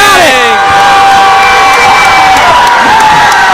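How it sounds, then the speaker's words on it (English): A packed high school gym crowd erupts as a player scores her 1,000th career point in a girls' basketball game: loud, sustained cheering, whoops and shrieks from the student section, continuous throughout, with voices shouting in the mix. "And Lancer Circle erupts in applause"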